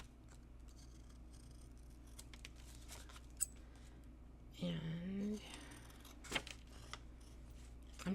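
Scissors with glue-coated blades snip during a quiet crafting session: a couple of sharp, isolated cuts, with a soft voice speaking briefly in between.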